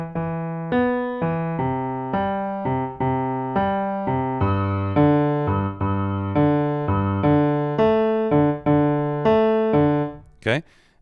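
Piano left hand alone plays a repeating 3-3-2 rhythmic pattern, a steady cycle of sustained bass-register notes and chords over about eleven seconds at moderate volume, with no talking.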